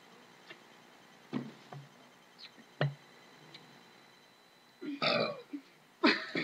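Several loud burps from a burping contest, short ones at first, then two long rasping belches near the end, with quiet pauses between.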